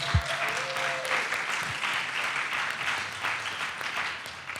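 A lecture audience of a few hundred applauds in a steady, dense patter of clapping that rises and falls in waves, with a brief voice near the start.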